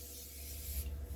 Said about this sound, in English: And then I'm going to go in with the Morphe setting spray.